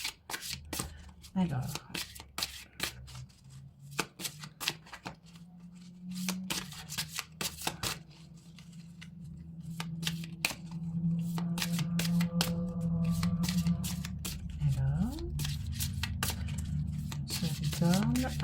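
A deck of tarot cards is shuffled and cards are drawn and flipped, with crisp riffling and snapping card sounds throughout, sometimes alone and sometimes under someone speaking French.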